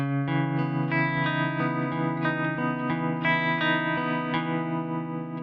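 Electric guitar chords through an MXR M305 tremolo pedal ring out with a pulsing, wavering volume effect, steady and continuous, played alone without voices.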